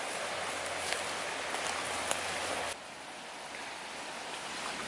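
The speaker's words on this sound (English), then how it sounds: "The creek is moving pretty high." High, rain-swollen creek water rushing past an abandoned mine tunnel entrance, a steady broadband roar that holds for the whole stretch and drops slightly in level partway through, with no voices.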